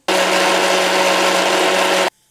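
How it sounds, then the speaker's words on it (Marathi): A mixer grinder whirs loud and steady for about two seconds, blending tomato, ginger, garlic cloves and grated dry coconut into paste, then cuts off abruptly into near silence. "मिक्सरमध्ये डूर फिरवायचं"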